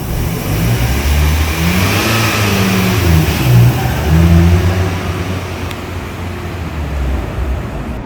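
1996 Mazda Miata with a manual transmission accelerating as it starts rolling away, a steady loud engine drone that rises and eases over several seconds, heard from inside the car with no talking.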